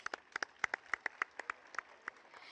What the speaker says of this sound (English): A huge round of applause for the performers.